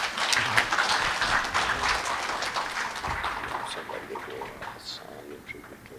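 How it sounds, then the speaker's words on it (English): Audience applause at a Sunday satsang at Maharshi Dayananda Gurukula, a dense, steady round of clapping that stays fairly loud and fades slightly toward the end. "Big round of applause"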